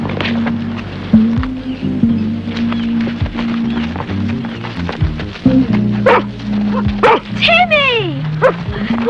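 A dog named Timmy gives a few short barks and yips on an island, mixed in with people talking over a low steady engine hum.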